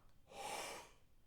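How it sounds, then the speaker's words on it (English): A quick, soft breath drawn in through the corners of the mouth, a short airy gasp lasting under a second, close and quiet. "When breathing through my mouth and just the corners of my mouth,"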